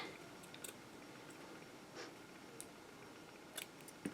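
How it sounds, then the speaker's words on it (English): Scissors make a few faint, crisp snips as they trim the edge of a butterfly fairy craft piece, spaced irregularly over a quiet background. "I do need to snip a little bit of this edge off"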